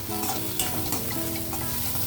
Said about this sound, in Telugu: ఉల్లిపాయలు కొద్దిగా ఫ్రై అవ్వాలి